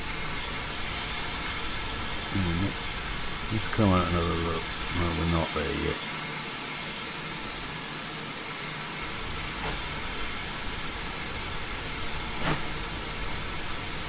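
Train running on a railway, a continuous rumbling ride with periodic clanks and a faint squeal, while people talk over it now and then.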